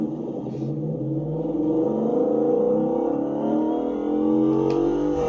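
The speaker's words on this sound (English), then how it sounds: "I don't remember V8 sounding quite like this from automation" A V8 engine in the Automation car game revs continuously, its steady harmonic drone climbing slowly in pitch as it gains speed, loud and close with no talk.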